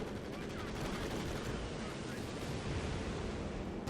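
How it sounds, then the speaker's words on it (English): Light artillery barrage in Company of Heroes 2, a dense, continuous roar of blasts and rumbling impacts that blur into a steady wash of noise, loud throughout with no clear gaps. "Light artillery barrage."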